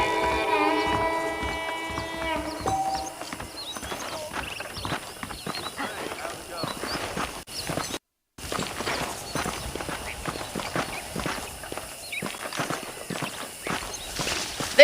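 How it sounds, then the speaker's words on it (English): In the video game Red Dead Redemption, horse hooves clip-clop in a steady walking rhythm close by, running through most of the stretch beneath someone talking at the start. "The horses are saddled up over here."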